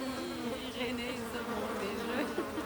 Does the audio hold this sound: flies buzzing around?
yes